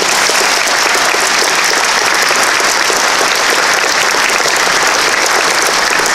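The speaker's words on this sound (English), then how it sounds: "Please give them a round of applause for their accomplishments." A large audience applauds at the 2017 Northwestern spring alumni reunion, a dense, loud, unbroken wash of clapping that holds steady for about six seconds.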